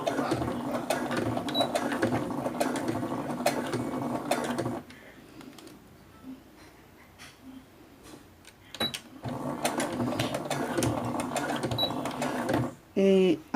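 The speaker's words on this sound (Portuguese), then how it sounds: "Aí eu vou costurar no meu ponto máximo" Sewing machine running at its maximum stitch, sewing a tube bag, with steady mechanical stitching in bursts: a long run, a pause with quieter handling, then more stitching and a short loud burst at the end.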